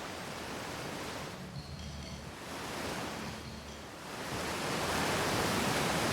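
Steady rushing water of a waterfall in the space exploration game Outer Wilds, a continuous broadband roar that swells louder toward the end, heard alone with no talk.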